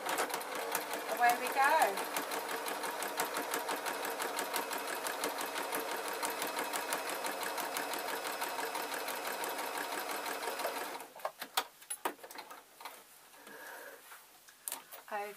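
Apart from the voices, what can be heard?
sewing machine stitching a waistcoat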